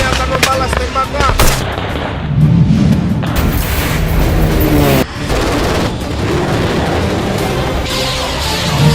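Soldiers returning fire in a Papua conflict, with loud, dense bursts of gunfire and heavy booms that roll on almost without pause, close and harsh.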